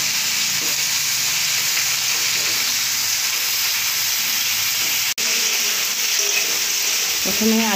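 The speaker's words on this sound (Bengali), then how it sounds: "প্রথমে আলুটাকে ভালো করে এপিট ওপিট করে ভালো করে ভেজে নিতে হবে।" Potato pieces fry in hot oil with a continuous dense sizzle and hiss, close and steady throughout, with one brief dropout and a faint clatter near the end.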